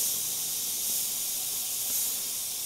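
An airbrush sprays paint with a steady, even hiss that stays constant and fairly loud from start to finish, with no voices.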